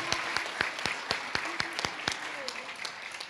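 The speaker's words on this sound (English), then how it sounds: "Let's give them a round of applause." A modest round of applause for a spelling bee runner-up: sharp, separate claps from a small audience at a moderate pace, with faint voices underneath.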